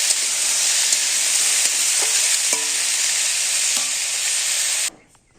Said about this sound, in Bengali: সবজি দিয়ে ভালো করে বেজে একটু জাল হোক